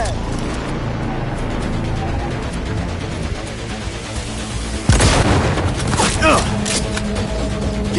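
Gunfire and booming blasts in the video game Cyberpunk, a steady rattle of shots under shouted talk, with a louder heavy impact midway and continuing bursts.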